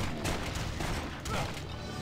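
Gunshots in the action RPG Torchlight 2, a dense burst of loud firing and impacts lasting about two seconds, layered over a noisy game soundscape.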